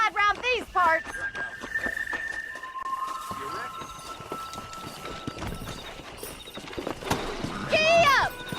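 Horse galloping in Red Dead Redemption, rhythmic hoofbeats clopping close and steady under a voice, with a whinny and faint music tones mixed in.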